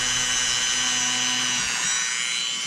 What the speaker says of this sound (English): Drill you two little small holes.